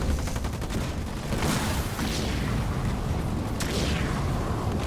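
Dense, continuous battle noise from a Halo Wars 2 real-time strategy match, a plasma mine going off on a sniper unit amid steady gunfire and booms, with a few sharp bursts standing out near the start and end.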